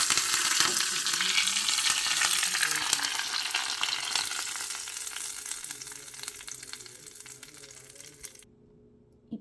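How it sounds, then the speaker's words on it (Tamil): Curry leaves crackle and sizzle loudly in hot oil with urad dal while tempering tomato chutney, a dense close frying hiss with some stirring that cuts off abruptly near the end. "இப்போது கடைசியாக கருவேப்பில் போட்டு தாளிச்சிருவோம்"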